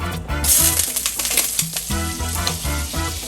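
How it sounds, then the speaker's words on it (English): Butter hits hot olive oil in a pan for sautéing shrimp scampi, setting off a loud, steady sizzle close by, with a rhythmic low knocking from stirring or pan movement underneath. "I already put in my olive oil in, so I'm just gonna add in my butter."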